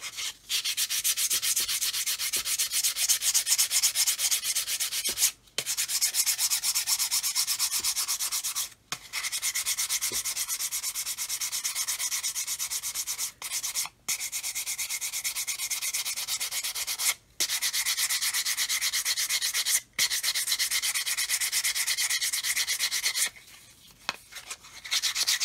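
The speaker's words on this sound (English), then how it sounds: "I'm going to come along with this coarse stick and just sand away this inner edge" A coarse sanding stick rubs back and forth along the inner edge of a model part, a steady, close, gritty scraping that runs almost continuously with a few short pauses.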